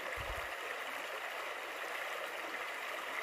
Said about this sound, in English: Another fine little babbling brook.